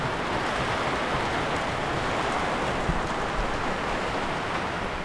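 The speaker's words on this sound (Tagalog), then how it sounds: "Ulan." Rain falling at sea on a spearfishing trip in the Philippines, a dense, steady hiss of drops across the water that stays constant and fairly loud throughout, with no voices.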